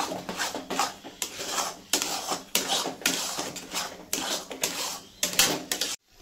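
Dhoka lentil mixture being stirred in a pan with ghee for a vegetarian dhokar dalna, giving rapid, continuous scraping and clattering of a spatula against the pan, close and fairly loud, ending abruptly.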